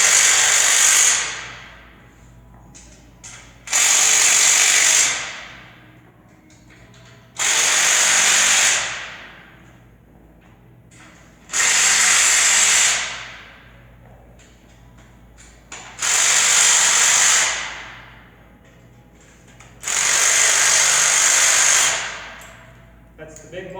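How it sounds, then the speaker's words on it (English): An impact wrench drives 3/4-inch and 1/2-inch bolts on a Springfree O77 8x11 trampoline frame in six loud, close bursts of rattling hammering, each lasting a couple of seconds, separated by near-quiet pauses. "To go a little faster, we use an impact hammer."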